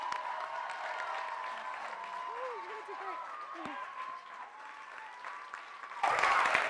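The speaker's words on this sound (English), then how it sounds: "let's give a round of applause for Jeff Beneducci" An audience applauds to welcome a speaker at a conference talk, a steady fairly quiet wash of clapping with voices and brief vocal sounds over it, then a louder burst at the end.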